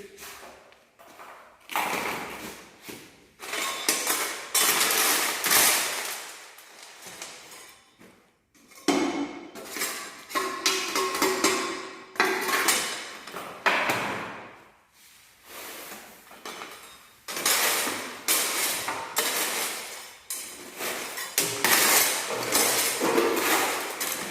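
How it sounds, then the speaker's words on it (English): Fresh concrete mixed by hand with a trowel or shovel on a tray, ready for a slump test, giving repeated loud scraping and thudding strokes in a steady working rhythm, close by. "Now all of you can see we are mixing the concrete, we are preparing the concrete."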